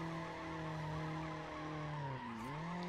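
A car drifting in Need for Speed Underground, its engine drone holding steady and then dipping briefly in pitch as the tires skid and squeal, loud and continuous throughout.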